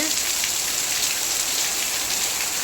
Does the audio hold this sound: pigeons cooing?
no